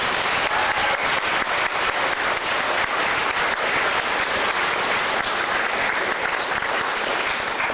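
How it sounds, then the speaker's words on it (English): Steady, dense applause from an audience at a community event in Cornwall, Ontario, continuous and evenly loud throughout with no pauses, a crowd clapping together for a police escort. "Let's give them a round of applause."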